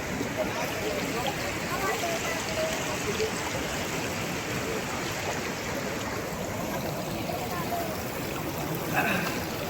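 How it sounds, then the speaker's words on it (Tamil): Small streams flow down toward Athirappilly waterfall with a steady, broad rush of running water that holds evenly throughout, with a faint voice in the background. "பாருங்கள் சிறு சிறு ஓடையாக போய் கீழே அருவியாக கொட்டுது."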